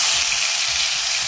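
Fennel and whole spices tempering in hot oil in a wok give a loud, close, continuous sizzle, a dense steady hiss with no talking.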